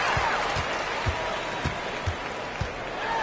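Arena crowd in the NBA 2K23 basketball game during a Pelicans vs. Mavericks matchup, a steady roar of applause and cheering with soft, evenly spaced ball-bounce thuds beneath it.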